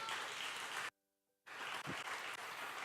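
A church congregation applauds during a Spanish-language sermon: dense, steady clapping that stops abruptly for about half a second, then resumes just as full.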